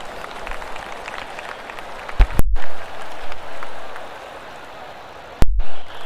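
A golf gallery in the PGA Tour 2K23 video game applauds with a continuous patter of clapping, broken by two sharp, loud interface clicks or thumps.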